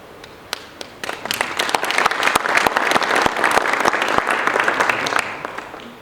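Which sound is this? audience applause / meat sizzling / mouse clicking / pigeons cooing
audience applause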